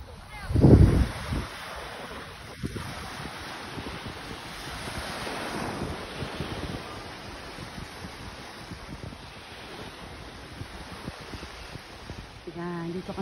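Sea waves break on the shore in a steady, moderately loud wash, with a brief loud knock near the start and a faint voice at the end.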